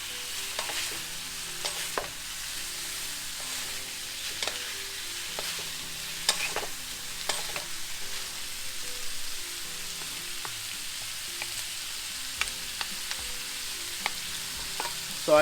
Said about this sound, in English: Make sure that no sausage is just left at the top because then it won't be cooked.